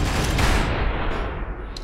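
Assault rifle fire in Space Engineers: a dense, loud, continuous burst of rapid gunshots with booming low end, sustained without pause.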